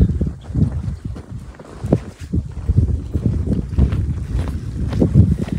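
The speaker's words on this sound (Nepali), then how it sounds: "यति चिसो अब कुरै छोड्थ्यो, हावा लागिरहेछ है" Steady cold wind buffets the microphone in low rumbling gusts on Thorong La mountain pass, continuous throughout with no voices.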